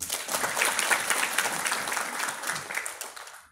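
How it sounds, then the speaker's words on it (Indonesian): A crowd of religious counselors at an indoor gathering breaks into dense, sustained applause, steady and full for a few seconds before tapering off to silence at the end. "Tepuk tangan untuk kita semua."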